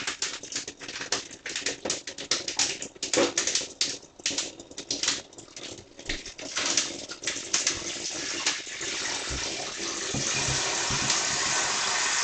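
Tap water running into a bucket of ice, starting as uneven splashing and clattering, then settling into a steady, louder gush as the bucket fills.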